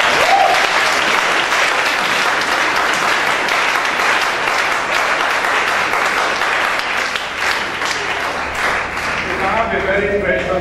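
Sustained audience applause in a church ministry talk setting, dense and loud clapping from a crowd that continues steadily and tapers slightly near the end.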